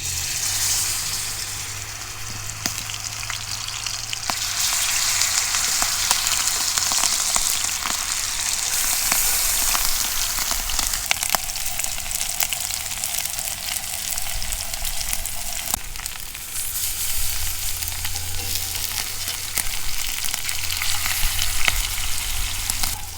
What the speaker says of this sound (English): our skillet is good and hot, so we're going to go ahead and throw these steaks on there